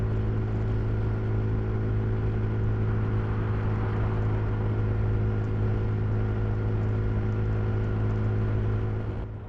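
A 2023 KTM 390 Adventure motorcycle cruising on a motorway in cold wind, giving a steady, loud engine drone under continuous wind rush with no pauses.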